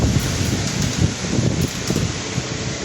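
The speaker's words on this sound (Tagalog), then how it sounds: "Sobrang lakas ng hangin." Very strong wind during Typhoon Uwan roaring steadily and loudly with gusting surges and buffeting noise on the microphone, no talk.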